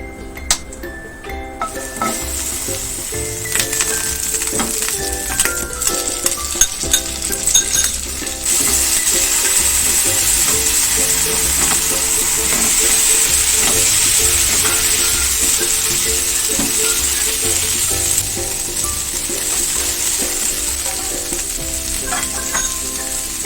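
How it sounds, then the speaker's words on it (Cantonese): Roast pork frying in a wok for a home-cooked wintermelon dish, a steady loud sizzle with occasional clinks and scrapes of a spatula against the metal, close up and without talk. "再用另一隻鑊處理燒肉。"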